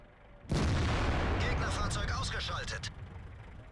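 A tank cannon shot in World of Tanks goes off as a sudden loud boom, then a sustained rumble and crackling impact noise trail off while a voice talks over it.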